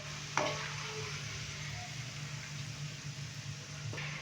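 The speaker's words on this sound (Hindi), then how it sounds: "प्याज डालने के बाद हम प्याज को अच्छे से फ्राई करेंगे, तकरीबन गोल्डन ब्राउन करेंगे।" Onions frying in a pan for beef biryani give a steady close sizzle with a brief clatter of stirring near the start, under a faint background hum.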